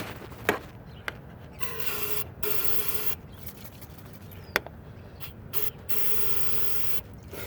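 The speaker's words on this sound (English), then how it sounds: "I'm going to spray into the top here" Bursts of aerosol cleaner hiss sprayed into a car's EGR valve in short and longer blasts, with sharp clicks and mechanical clatter in between, close up.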